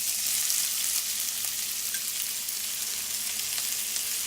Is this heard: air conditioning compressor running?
no